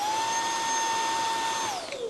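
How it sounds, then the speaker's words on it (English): A Beko cordless vacuum cleaner runs close by with a loud, steady motor whine. Near the end the pitch drops as it starts to wind down, and no one talks. "let's try and vacuum the couch because it's filthy"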